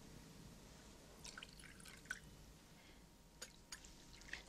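A drink is poured into a glass in a quiet room, heard as faint, intermittent splashy drips and trickles rather than a steady stream.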